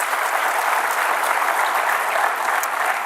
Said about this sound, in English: Another huge round of applause for all former leaders who will be honored today